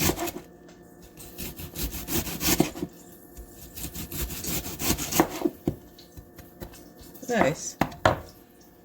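A knife slices a pepper into thin strips on a cutting board, giving repeated bursts of crisp chopping and scraping strokes with short pauses between runs, close up; a voice briefly speaks.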